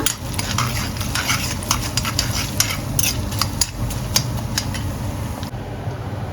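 Spices and ginger sizzling as they are tempered in a hot pan, a continuous close, loud crackle with scattered pops and occasional clinks of a stirring utensil.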